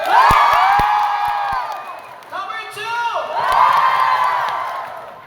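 Audience in a Filipino comedy show cheers, whoops and claps for a row of teacher contestants, swelling loud at the start, dipping briefly while a host calls out a number, then rising again.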